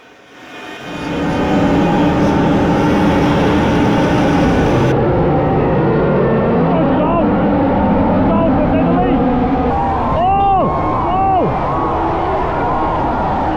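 Formula 1 cars roar past on the Miami Grand Prix formation lap, a loud sustained engine drone with rising and falling pitch sweeps as individual cars pass close by.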